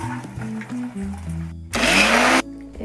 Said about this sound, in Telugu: అల్లం వెల్లుల్లి పేస్ట్ మిక్సీ పట్టుకుందాం